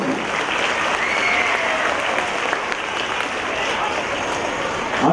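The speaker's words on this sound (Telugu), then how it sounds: "ఒక్కసారి చప్పట్లో వాళ్ళ యాంకరింగ్ కోసం" An audience at a 23rd anniversary event applauds the child anchors, a loud, sustained wash of clapping from a large crowd that holds steady throughout.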